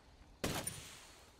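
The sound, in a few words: gunfire shooting at car tires in Ghost Recon Wildlands video game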